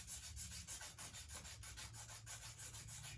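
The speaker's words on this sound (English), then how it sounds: "Now get your pencil and your sanding pad, create a little pile of graphite" Pencil graphite rubbed hard against a sanding pad, a steady rapid back-and-forth scratching with an even gritty rasp throughout, close and fairly quiet, no voices.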